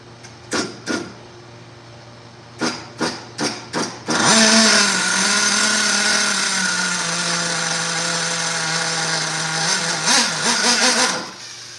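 A small nitro engine in an RC model, starting with a few short bursts, then revving into a loud continuous whine that settles into a steadier tone and rises in a few closing blips, alone and close by.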